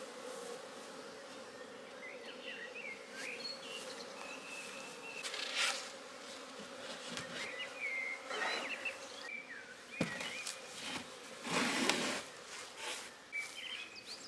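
Honeybees hum around open hives during an inspection, a steady buzz with individual bees zipping close past, while faint bird chirps and some handling noises sound in the background.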